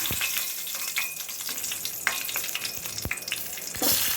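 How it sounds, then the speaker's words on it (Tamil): Dried red chillies fry in hot oil left from toasting urad dal, making a close, crackling sizzle with sharp pops scattered through it and a surge of hiss at the end. "அதே எண்ணெயிலே காய்ந்த மிளகாய் சேர்த்துக்கலாம்."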